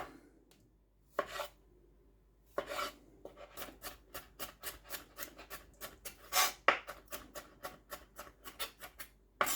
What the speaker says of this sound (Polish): Ogórki kroimy w kostkę, w plasterki, ewentualnie w półplasterki